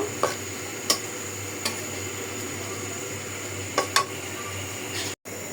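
Dried fish curry with spices being stirred and fried in a pan, a steady low sizzle running under occasional sharp scrapes and clicks of the spoon against the pot.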